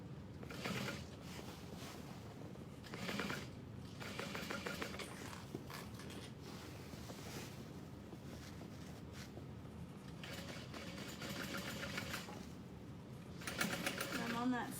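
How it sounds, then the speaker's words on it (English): A sewing machine stitches a handbag right alongside its Peltex stiffener, a soft, steady whirring run in uneven stretches with a voice heard at times. "we're gonna sew right next to the Peltex"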